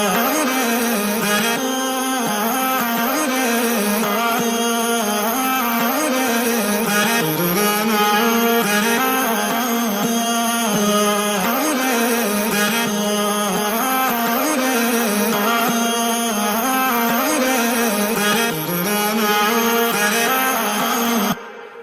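Soloed vocal chops run through a CLA vocal compressor in a music production project, a dense, continuous stream of chopped, pitched vocal snippets with steady loudness throughout.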